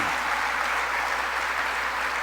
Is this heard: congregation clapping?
yes